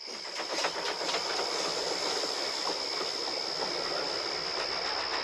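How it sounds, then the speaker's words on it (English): A steam engine puffs along a railway line with a continuous rushing hiss and rolling rail clatter, steady and moderately loud, with no speech. "And with that, Stepney puffed away."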